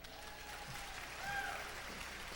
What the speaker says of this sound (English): With a show of a round of applause